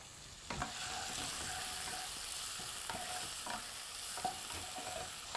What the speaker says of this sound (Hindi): प्याज को अब हल्का सा भूनना है।